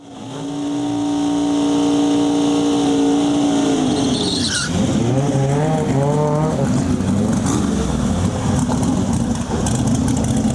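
Drag racing cars blast down the lanes at a World Cup Finals qualifying session, a loud sustained engine roar that rises in pitch through the run, then a second burst of revving and tire noise, continuous and close.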